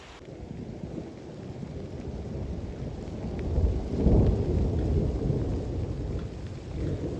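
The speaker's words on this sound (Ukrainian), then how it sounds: "перший весняний грім." The first spring thunder rumbles over steady rain at a garden house, a low roll that swells midway and fades, distant but full, with no voices.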